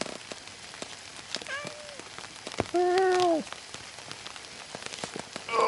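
Steady patter of rain falling on a garden camp setup with a bivvy and tarp, a dense wash of drops and taps throughout, with a person speaking briefly and a short tonal sound partway through.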